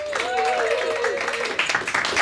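A voice speaks briefly, then audience applause swells in a comedy club, a busy crackling wash of many hands clapping together that grows noisier toward the close.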